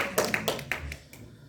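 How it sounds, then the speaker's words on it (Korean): Members of a church congregation give a handful of soft, separate claps in welcome, a short, sparse burst heard close and fading quickly. "일단 환영의 박수 한번 드리겠습니다"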